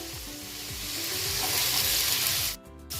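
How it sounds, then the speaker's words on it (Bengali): Onions and cabbage sizzle loudly in a frying pan while being stirred, a dense continuous crackle with rhythmic scraping strokes that cuts off abruptly near the end. "একটু নেড়ে চেড়ে দিয়ে দিচ্ছি 1 বাটি পেঁয়াজ"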